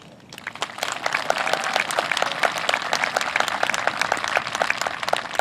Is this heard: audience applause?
yes